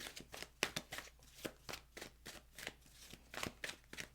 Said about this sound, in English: let me just shuffle a few more times